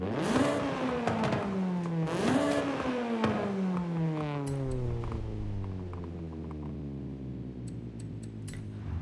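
Tuned car engine in the video game Forza Horizon 5, a 2-liter block with upgraded cams and valves, revving hard twice to high pitch, then holding a long falling whine that fades near the end.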